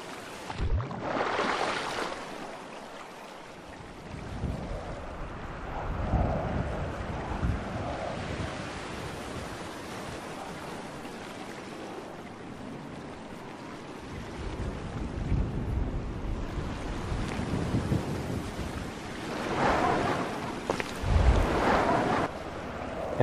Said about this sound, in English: Another big wave is coming.